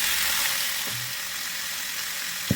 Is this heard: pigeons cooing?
no